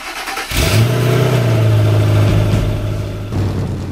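An engine running on StarTron-treated fuel cranks and catches, then settles into a loud, steady idle with a deep hum close by.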